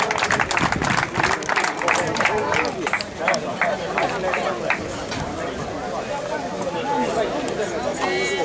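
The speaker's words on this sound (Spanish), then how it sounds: "Un fuerte aplauso para ella." Applause from a crowd greets a race finisher at an awards ceremony for the Milla do Albariño run in Cambados, a sustained burst of clapping mixed with crowd chatter, with an announcer's voice over it.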